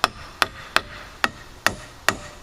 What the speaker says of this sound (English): Start a couple nails.